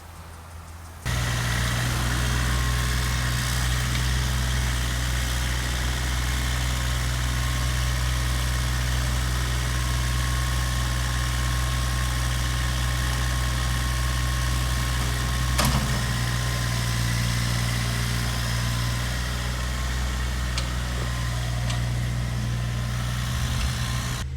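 A borrowed tractor's engine idles steadily outdoors while filling raised garden beds, starting after a second and holding a low, constant diesel drone near the listener, with a brief clank partway through.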